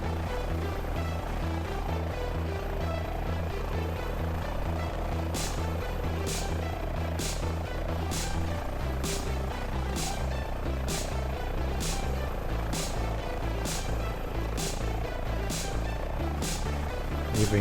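An Airbus H145 helicopter in Microsoft Flight Simulator: rotor thuds in a steady, rapid rhythm over a constant engine drone, close and loud throughout with no talking.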